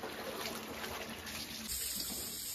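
Fresh mountain spring water pours steadily into a vessel, a continuous splashing gush with a slight change in tone partway through as the container fills.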